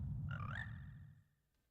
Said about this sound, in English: Nice frog noise, Ganon.